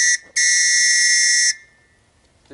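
A loud, piercing whistle sounds alone: a short blast, a brief gap, then one long sustained blast of over a second before it cuts off.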